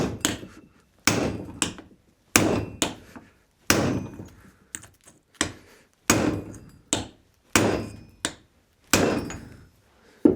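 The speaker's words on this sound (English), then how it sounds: "I'm feeling more confident with the hammering" About ten sharp hammer blows ring out on a socket to drive out a stubborn rear wheel hub on an MEV Exocet, each strike loud and close, coming in uneven bursts with short pauses between.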